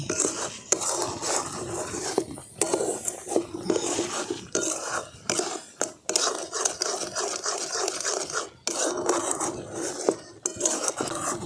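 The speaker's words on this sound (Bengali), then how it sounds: "চিনিটা দিয়ে আমি ভালো করে মিশিয়ে নিচ্ছি।" Sugar being stirred into ripe mango kheer in a pan, a spoon scraping and swishing through the thick mixture in irregular strokes with brief pauses, close and fairly loud, no voices.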